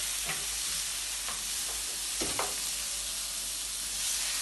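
Diced tomato goes into a hot pan for Jamaican ackee and saltfish, giving a steady soft sizzle with a few quick stirring scrapes, close and moderately quiet, with no voices over it.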